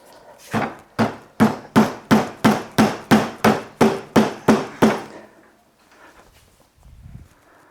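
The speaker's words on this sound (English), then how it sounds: "they're a bit of a mission to put in, so I had to grab the hammer" Twelve sharp, evenly spaced hammer blows knock rubber caps into a CFMOTO 800MT motorcycle, loud and close, followed by a short quiet stretch with faint handling noise.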